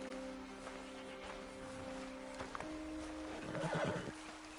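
Horses neigh and whinny in Red Dead Redemption 2, a long shrill whinny rising near the end over steady game ambience, with a few faint hoof clops and no talk.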